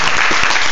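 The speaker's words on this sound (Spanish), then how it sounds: "Un aplauso al Señor en esta preciosa hora." A church congregation breaks into a brief, loud burst of clapping, applauding the Lord during a Spanish-language sermon.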